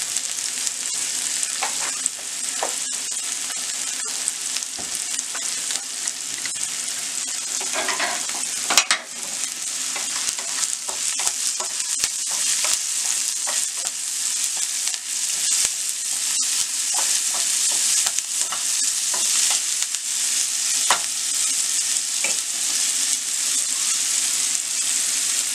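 Grated carrot frying in a pan for gunta punugulu, alongside onions and salt, gives a steady, close sizzle with stirring scrapes throughout, unbroken and without talk.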